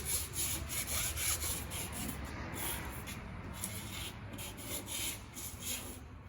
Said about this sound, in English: I'm just gonna kind of angle my sandpaper a little different just so I can get some scuffing going on in there